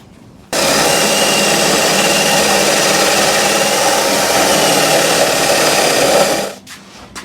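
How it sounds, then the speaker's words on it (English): A power drill bores holes in a shackle relocation bracket on a Jeep XJ, a loud, steady high-pitched whine that starts abruptly, holds for about six seconds, then winds down, close up with no talking. "Now I'm drilling the top."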